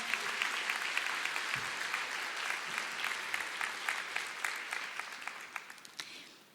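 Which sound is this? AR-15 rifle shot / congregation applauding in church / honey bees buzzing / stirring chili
congregation applauding in church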